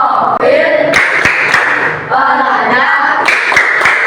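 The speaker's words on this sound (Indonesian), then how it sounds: "Kita melakukan tepuk P5 dulu ya." A classroom group performs the 'tepuk P5' clap chant, with voices chanting loudly in unison and punctuated by sharp, rhythmic hand claps in short patterned clusters.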